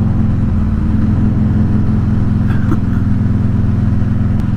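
A 2015 Harley-Davidson Sportster Iron 883 motorcycle rumbles steadily and loudly throughout, its low engine throb constant as it rides over a bumpy road.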